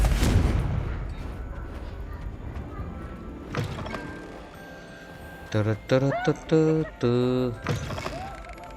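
Confringo fire spell in Hogwarts Legacy lands with a heavy booming blast followed by rumbling fiery decay, then a voice speaks in short bursts over the fading rumble.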